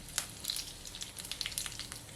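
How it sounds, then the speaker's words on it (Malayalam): Curry leaves and halved dried red chillies fry in hot oil with popped mustard seeds and cumin, giving a soft, faint crackling sizzle with scattered small pops throughout. "കടുകും ജീരകവും പൊട്ടിക്കഴിയുമ്പോൾ ഇതിലേക്ക് കുറച്ച് കറിവേപ്പിലയും 2 ഉണക്കമുളകും 2ആയിട്ട് മുറിച്ചും കൂടി ചേർത്ത് കൊടുക്കാം"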